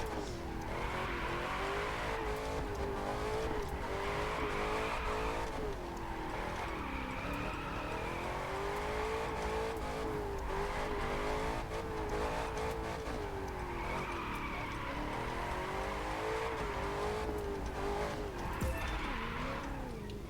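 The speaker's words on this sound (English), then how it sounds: "I'm pressing my throttle and my nitro goes out." American muscle car in The Crew 2 accelerating under throttle and nitro, a loud, continuous engine drone whose pitch rises and falls in repeated surging waves as gears change, with tire noise over it.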